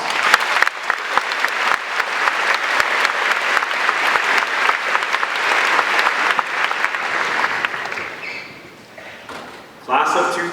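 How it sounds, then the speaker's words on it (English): A large audience of incoming UC Irvine Class of 2018 students at a welcome-week speech gives dense, sustained applause that fades near the end before a brief burst returns. "Please give yourselves one more round of applause."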